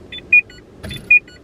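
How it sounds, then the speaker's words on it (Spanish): A parked car sounds a short electronic chime pattern: two pairs of bright beeps, then a dull thump, then two more beeps, all close and clear, with no talking. "Ya me está pitando el coche. ¡Que quiere gasolina!"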